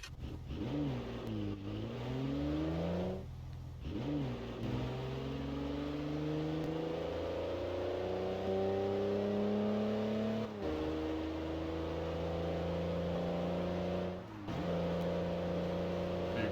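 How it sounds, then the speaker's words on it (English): A car engine in a roleplay video game runs loud and steady, revving up and shifting through several rising and falling pitch sweeps as the vehicle accelerates and drives on, with no talking. "So now you're going to hop back in your car."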